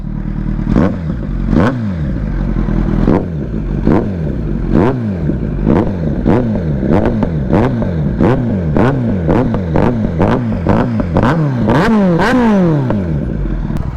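A Kawasaki Z900 motorcycle engine revs hard again and again while riding, loud close bursts of rising and falling roar with rapid gear-shifting blips that speed up toward the end.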